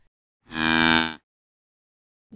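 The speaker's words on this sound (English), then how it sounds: "Ow, cow." A cow gives a single loud, clear moo lasting under a second, standing alone in silence.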